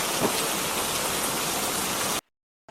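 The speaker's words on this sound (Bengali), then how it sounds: "দেখো বাইরে বৃষ্টি হচ্ছে" Rain pours outside in a steady, even hiss for about two seconds, then cuts off abruptly into silence.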